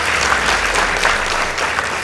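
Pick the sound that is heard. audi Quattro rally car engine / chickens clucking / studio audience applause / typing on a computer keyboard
studio audience applause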